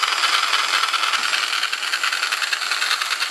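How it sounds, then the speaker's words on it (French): Loud, buzzing jigsaw cutting steadily with a fast reciprocating rattle, close by and continuous without a pause. "là je vais utiliser une scie sauteuse"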